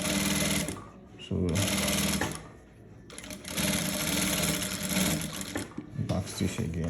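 A sewing machine back stitching a trouser zipper fly, its steady whirring hum running in long stretches with brief stops between, close and loud, with a speaker talking briefly.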